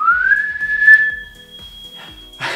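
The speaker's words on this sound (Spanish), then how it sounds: "empieza el chiflido desde aquí" A hidden novelty product emits a steady whistle, first rising then holding a high tone before a brief pause, heard clearly and alone over faint rhythmic background noise.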